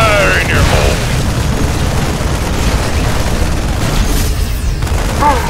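Explosions in the video game StarCraft II, a sustained low booming rumble through the whole stretch, loud and dense, with short voiced game unit lines rising briefly above it.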